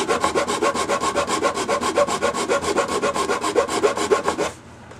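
A hand file rasps at an angle across the edge of a plastic mounting piece for FJ Cruiser roof-rack backup lights, tapering it in rapid, even back-and-forth strokes that sound close and steady before stopping abruptly.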